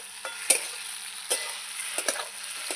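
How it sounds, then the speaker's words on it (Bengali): Spiced potatoes sizzle softly in a pan, with a quiet steady fry under occasional sharp scrapes and clicks of stirring. "এই যে ভালো করে কষিয়ে নিয়েছি"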